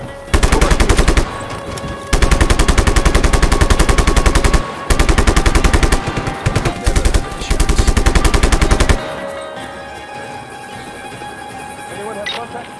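Long, loud bursts of automatic machine-gun fire from a Just Cause 3 game fight crackle in rapid rhythm, broken by short pauses, then fade to a quieter background hum with faint radio-style voices.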